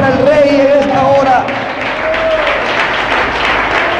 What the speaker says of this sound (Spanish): Fuerte ese aplauso para el Rey en esta hora.